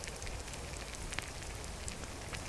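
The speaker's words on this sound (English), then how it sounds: "it is pissing it down with rain" Heavy rain in the video game Skyrim, a steady wash of hiss and patter with scattered drop ticks, constant and moderately faint, with no talking.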